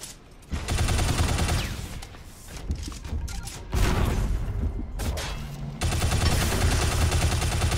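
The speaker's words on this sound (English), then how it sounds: "Pistols do a lot of damage in this game." Rapid pistol fire rings out in the Shadow Complex game, loud dense bursts of shots separated by short gaps, with booming impacts throughout.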